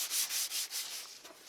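A cloth rubs cleaner over a vehicle headlight in quick back-and-forth strokes, giving a close, soft rhythmic scrubbing hiss that fades slightly toward the end, with no voices.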